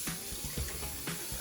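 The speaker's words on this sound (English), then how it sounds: "I'm gonna wash this stuff off my face" Water runs faintly from a tap during face washing, a soft continuous hiss broken by small splashes.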